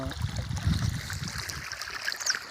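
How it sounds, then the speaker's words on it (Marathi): Water runs onto a young one-month-old onion crop in a field, a soft steady trickling and gurgling flow, faint and continuous with no voices. "या कांद्यावरती पाणी चालू आहे"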